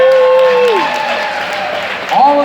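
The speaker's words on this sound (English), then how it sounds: "Give yourselves a round of applause." Audience applause at an evening small-business leaders event sponsored by Goldman Sachs, steady crowd clapping filling the whole stretch while a voice speaks over it.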